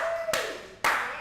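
Two sharp, separate hand claps about half a second apart, close and distinct, with a faint tone fading beneath the first.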